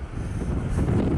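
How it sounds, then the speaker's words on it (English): Strong wind buffets the microphone on a small beach in Scotland on a very windy day, a low, gusty rumble that swells and dips unevenly and stays close and fairly loud throughout. "It's a very windy day, I'll tell you."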